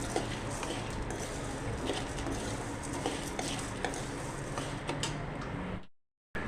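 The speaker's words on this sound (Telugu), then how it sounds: "ఇవన్నీ బాగా ఫ్రై అవుతున్నాయండి." Moringa leaves fry in a pan with a continuous dense sizzle, and stirring adds faint scraping clicks before the sound cuts out briefly near the end.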